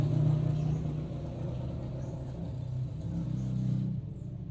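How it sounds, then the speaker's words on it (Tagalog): Steady road traffic rumbling past continuously, cars and other motor vehicles blending into a constant mid-distance drone with slight swells as individual vehicles go by. "Daming sasakyan na dumaan."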